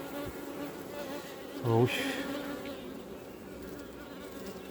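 Honeybees buzz steadily around an open hive frame holding a selected queen's brood, stored honey, pollen and larvae, a continuous close insect drone with one short louder burst, and a brief spoken murmur.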